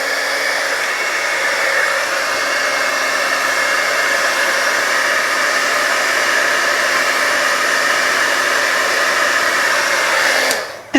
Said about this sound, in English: I'm going to grab my heat tool